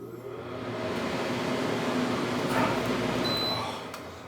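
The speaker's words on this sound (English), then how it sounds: "oh, don't you have AC? I do, but it sounds like this." A noisy air conditioner runs in a room, giving a faint, steady whooshing drone that holds throughout without pauses.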